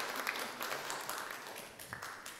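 Faint, distant applause from a symposium audience, a continuous patter of many hands clapping at low level throughout, with no clear voices on top.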